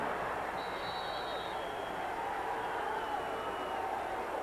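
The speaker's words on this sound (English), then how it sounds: "So the sparse crowd here that represents the Panthers make some noise." Sparse crowd of Pittsburgh Panthers supporters cheering after a touchdown at a 1992 college football game against Hawaii, a steady distant roar of voices and noise held at an even level throughout.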